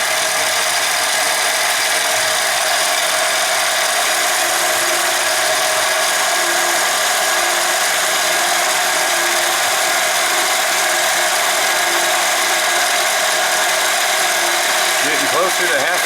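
A DIY diamond surfacing tool makes repeated cuts under auto feed, giving a steady, loud mechanical grinding and ratcheting drone that runs continuously for the whole stretch with no pauses.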